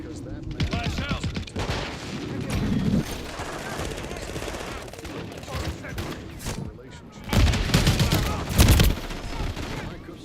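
Bursts of rapid gunfire and explosive thuds fill a Call of Duty multiplayer match, loudest in a heavy volley near the end, with game voice callouts over the shooting.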